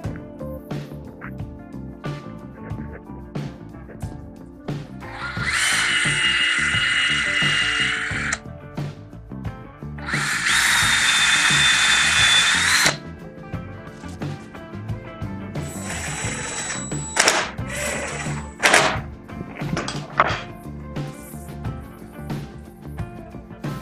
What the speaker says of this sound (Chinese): 然后呢从这里打两个螺丝